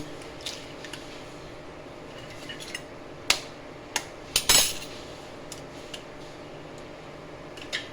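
Two eggs being cracked against a bowl of mashed potatoes, a few sharp clicks and taps among soft kitchen clatter, with one louder crack and rustle in the middle.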